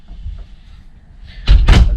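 A drawer in a 2020 Forest River Wildcat 290RL fifth wheel trailer slides and knocks shut with two close, loud thuds after a quiet stretch of faint rustling.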